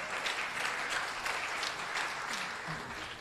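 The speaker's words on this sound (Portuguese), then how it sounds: "Palmas. Palmas." Brief applause in a calculus class, a burst of clapping from a small group that carries on steadily for a few seconds and fades slightly at the end.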